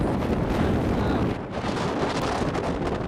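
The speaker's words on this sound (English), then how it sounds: "It's windy out here" Strong wind roars and buffets across the microphone on the deck of the cruise ship Carnival Freedom at sea, a continuous loud rush with a brief dip midway before gusting again.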